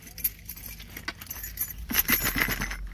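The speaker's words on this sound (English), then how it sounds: "So what I'm going to do now is put the keys inside." Car keys jangle and clink as they are slipped into an RFID signal-blocking pouch, a close metallic rattle in bursts that grows busier toward the end.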